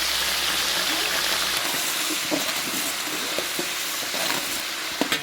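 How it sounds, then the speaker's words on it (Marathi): Steady loud sizzling of curry leaves dropped into hot oil for a chivda tempering, with light stirring scrapes near the end. "आता तेलामध्ये कढीपत्ता घालून घे"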